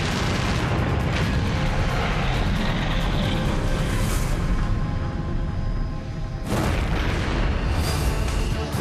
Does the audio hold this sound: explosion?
yes